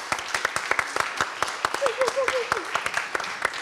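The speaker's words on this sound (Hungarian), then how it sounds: "Adjunk egy nagy tapsot nekik." A small crowd at a Csángó folk evening claps in a steady, rhythmic beat, the sharp claps close and distinct, while voices talk and call out underneath.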